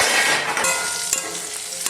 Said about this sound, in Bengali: এই যে এখানে আলু ভাজা হচ্ছে